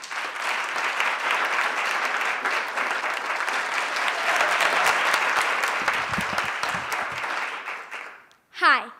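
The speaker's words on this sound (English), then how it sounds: "Please give her a round of applause." Sustained audience applause for a sixth-grade youth storyteller at a storytelling event, steady and dense for about eight seconds before fading, followed by a brief voice.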